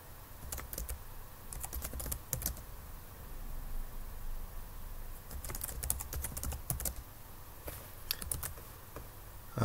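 Computer keyboard typing while configuring a Raspberry Pi for a CCTV project: quiet bursts of rapid key clicks in several clusters separated by brief pauses, close and alone with no speech.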